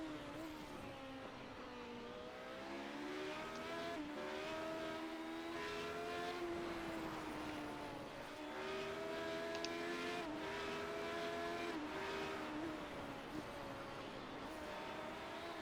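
Radical SR8 race cars lapping the Knockhill circuit, their engines droning and revving continuously at mid distance, pitch rising and falling through gear changes as several cars run together.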